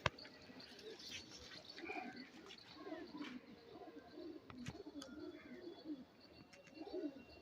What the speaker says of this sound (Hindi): देखो भाई ये कबूतर है